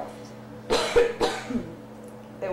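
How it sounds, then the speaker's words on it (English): A person coughs twice at the clinician's request during an ultrasound exam, two short, close bursts about half a second apart, followed by a fainter throat sound and quiet room noise. "give me that cough."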